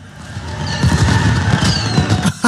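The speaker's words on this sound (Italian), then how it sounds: "Attenzione. Bomba." A bomb goes off in the video game Watch Dogs 2 as a loud, rumbling blast that swells and holds for about two seconds, with crashing debris and a sharp burst near the end.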